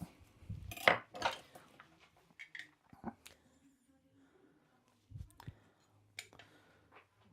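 A lime is sliced with a knife on a board in a kitchen, producing a few soft cuts and clicks among scattered clatter of utensils, with quiet gaps between.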